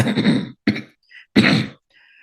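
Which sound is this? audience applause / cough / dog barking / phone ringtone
cough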